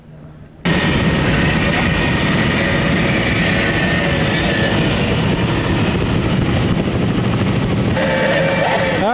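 A powerful outboard race boat engine bursts in after a brief quiet moment and holds a loud, continuous high-revving drone, with a voice faintly audible beneath it.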